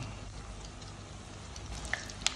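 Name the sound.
vegetable spring rolls (lumpiang gulay) frying in oil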